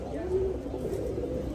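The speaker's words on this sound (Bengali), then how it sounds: "এই কবুতরটা হচ্ছে ওই ময়না দোপাস" A Moyna Dopas pigeon coos softly and low, close by but faint against a steady background hum.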